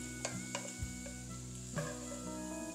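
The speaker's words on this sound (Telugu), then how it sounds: "ఇప్పుడు తాలింపుని మనం జీలకర్ర పొడి కలిపి పెట్టుకున్న మజ్జిగలో వేసేసుకోవాలి" Hot tempering sizzles faintly as it is poured into buttermilk for majjiga pulusu, with a few light clinks and stirring noises in a quiet kitchen.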